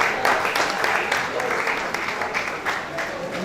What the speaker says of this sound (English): Can we please give him a round of applause again?